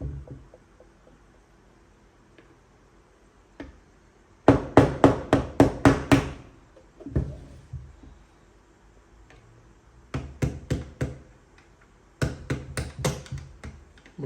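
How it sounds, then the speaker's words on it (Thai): A hammer knocks a pin out of a Northeast UZI airsoft trigger group, with sharp metallic taps coming in quick bursts of several blows separated by pauses, close and loud. "เราต้องตอกหมุดออกนะ ตัวนี้"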